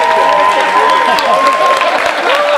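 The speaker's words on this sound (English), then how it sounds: "We can clap now." Audience applause at a community visioning day event, a steady wash of clapping that fills the whole stretch, with voices and tonal sounds mixed in over it.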